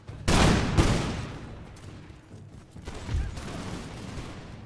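Enemy troops in a video game of the American Revolution fire a musket volley, a loud crackling burst of many near-simultaneous shots followed by a second ragged wave of gunfire and a fading rumble.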